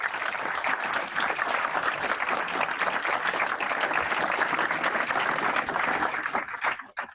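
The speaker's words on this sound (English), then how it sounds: "we're going to have to ask the crowd to essentially applaud the second time." An audience at a Paris machine learning meetup applauds in a dense, steady wash of clapping that lasts about seven seconds, then tapers off quickly at the end.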